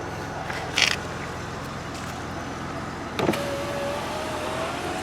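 A 2008 Impala's rear power window motor hums steadily as the glass lowers after a regulator replacement, with a couple of brief clunks, close by and no speech.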